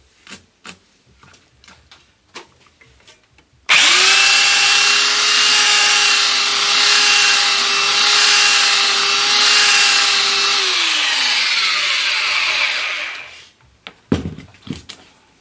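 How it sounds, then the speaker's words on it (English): A belt sander runs on scrap wood with no dust extractor attached, starting abruptly after some handling clatter and holding a loud, steady whine for about nine seconds before it spins down. "I decided to give it a little bit of a sand without the actual extractor connected, so we can see actually how much dust it can kick up"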